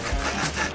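A cartoon saw cuts into a wooden door with a short, loud, rough rasping stroke, alone and close up.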